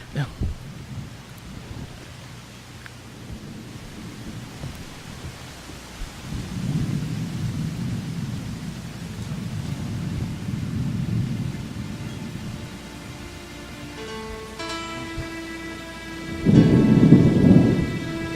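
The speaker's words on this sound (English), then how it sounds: "It's a quiet storm." A thunderstorm rumbles with steady rain, low thunder rolling in waves, then a louder, closer clap near the end, while a faint musical tone rises underneath.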